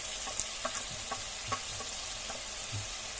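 Turmeric, red chili and Kashmiri chili powders fry in a pan with salt for a fish dish, giving a soft steady sizzle broken by scattered scrapes and taps of stirring, fairly quiet throughout.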